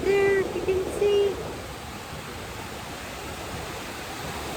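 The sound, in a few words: ocean waves surfing beach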